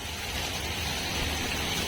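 Heavy rain pours down in a village. It is a dense, even hiss of falling water, loud and continuous throughout, with no voices.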